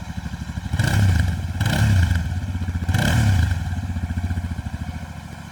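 A Royal Enfield Continental GT 650 twin engine thumps right at the muffler, a deep pulsing exhaust burble swelling through three blips of the throttle before settling to a steady idle, loud and close, with no talk.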